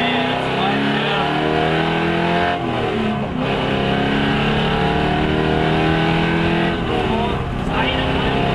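Loud, sustained V8 Supercar engine accelerating hard on a race track, its tone rising steadily with brief dips at gear changes, while a voice speaks over it.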